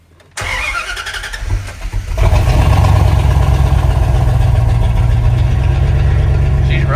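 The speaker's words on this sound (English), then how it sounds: "All right, we're gonna start this thing." An old Dodge Ram truck engine cranks briefly, then catches and settles into a loud, rough, steady idle close by, with no talking.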